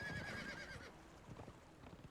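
A horse in Conan Exiles gives a short whinny at the start, followed by soft hoof clip-clop, faint and quiet against a low background.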